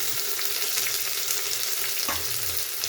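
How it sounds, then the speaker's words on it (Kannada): Curry leaves and other ingredients fry in hot oil for a cashew tomato bath, producing a continuous loud sizzle with soft stirring scrapes and a brief knock near the end. "ಸ್ವಲ್ಪ ಫ್ರೈ ಆದಮೇಲೆ ನಾನು ಒಂದು ಹಾಕಿದ್ದೀನಿ, ಕರಿಬೇವಿನ ಸೊಪ್ಪು"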